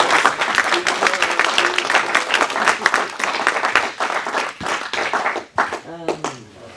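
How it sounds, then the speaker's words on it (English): A live audience claps in a lively round of applause with distinct individual hand claps that taper off, and a voice speaks briefly as it fades. "And big round of applause"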